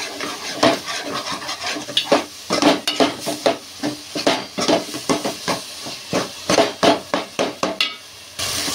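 Fish curry stirred after chili powder goes in, a spoon scraping a pot in a quick, regular rhythm of close strokes over a soft bubbling hiss, with no talking.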